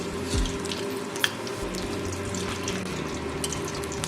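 Pumpkin fritters deep-frying in a wok of hot oil give a steady, dense sizzling hiss with scattered light crackles, close and continuous over a faint low hum.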